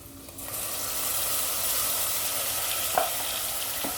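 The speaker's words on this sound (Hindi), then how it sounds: "अब इन टमाटरों को भी हम भून लेंगे अच्छे से।" Ground tomatoes and green chili frying in a pan for a Sindhi drumstick and potato curry, a steady close sizzle holding throughout with a faint stirring scrape partway through.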